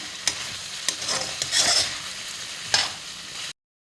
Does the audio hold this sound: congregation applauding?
no